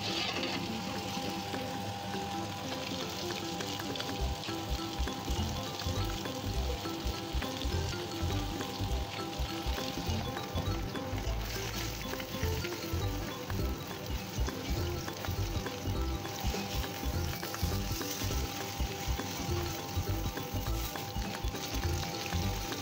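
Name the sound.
rohu fish frying in oil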